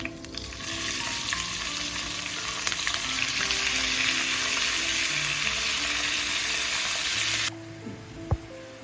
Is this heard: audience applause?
no